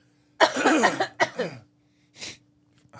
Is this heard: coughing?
yes